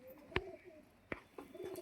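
Domestic pigeons of the high-flying Madras and black-green kinds coo softly; two or three short, low coos stand apart over a quiet room background.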